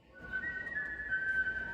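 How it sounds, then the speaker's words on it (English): A single performer whistles the national anthem before a game, one clear sustained whistled note gliding into the next, fairly close and alone without talk. "The national anthem was whistled before the start of the game"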